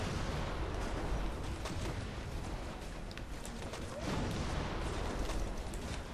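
Repeated artillery fire in the open-world shooter Red Faction: Guerrilla, a dense rumbling barrage of booms and cracks running continuously at a steady loud level, with no talk over it.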